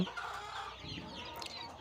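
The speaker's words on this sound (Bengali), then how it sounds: "এই যে দেখেন দেশি মুরগির বাচ্চাগুলো এখানে আছে" Busy, continuous chirping and peeping from a cluster of about twenty young native chicken chicks, close by and steady throughout, with no talking.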